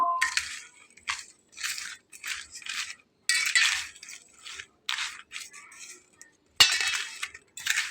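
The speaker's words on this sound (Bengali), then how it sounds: "আমি এখানে লেবুর রস আর চিনিটাকে খুব ভালো করে একটা চামচ দিয়ে মাখিয়ে এর সঙ্গে নিয়ে নিচ্ছি।" A spoon mixes lemon juice and sugar for raw mango pickle, producing a series of gritty scraping and clinking strokes in an irregular rhythm, close and fairly quiet, with short pauses between.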